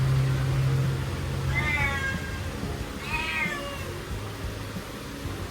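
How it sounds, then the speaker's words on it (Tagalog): A house cat meows twice, loud harmonic cries about a second apart, over a steady hum and low noise in a garage where a motorcycle front shock is being worked on. "Sensya na kayo, maingay yung pusa namin."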